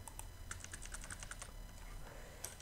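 Typing on a computer keyboard, a quick irregular run of close, crisp key clicks with short pauses, alone over a low steady hum.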